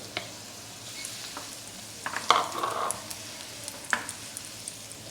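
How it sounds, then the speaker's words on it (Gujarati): Dates being roasted in ghee in a kadhai, with a soft steady sizzle and occasional scraping stirs of a spoon against the pan, one louder burst of frying midway, close and moderately quiet. "ખજૂરને આપણે ઘી સાથે સારી રીતે શેકી લેવાની છે"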